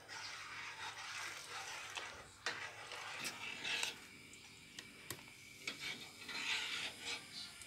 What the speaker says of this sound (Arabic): حنا كنحركو حتى يبدا يغلي وغادي نطفلو العافيه.